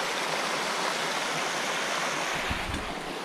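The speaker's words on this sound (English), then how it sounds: "Man, this is a nice stream. Nice and deep. Running water." Deep stream of running water along a wooded Appalachian Trail section on a hot afternoon, a steady broadband rush close by with no talking, a brief low thump near the end.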